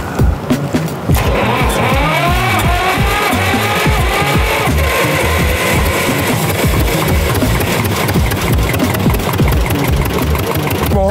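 A 1954 Porsche 111 tractor engine runs close by, a loud, steady, lumpy chugging with a rapid even firing rhythm that carries on without pause.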